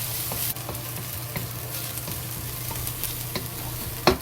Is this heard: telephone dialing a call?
no